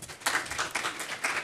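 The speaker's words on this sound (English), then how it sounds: "So please give me a welcome round of applause." A small lunch-and-learn audience claps to welcome a speaker, a brief, light patter of hands in uneven bursts.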